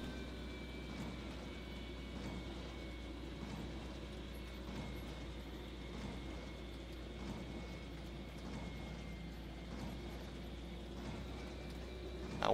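A John Deere 7280 tractor in Farming Simulator 2013, its engine a low, steady drone that runs evenly and fairly quietly throughout.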